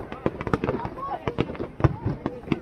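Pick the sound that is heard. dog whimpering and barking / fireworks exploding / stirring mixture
fireworks exploding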